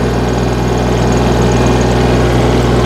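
A walk-behind tractor with a rotary tiller running hard, its engine a loud, constant, close drone with steady vibration and no pauses.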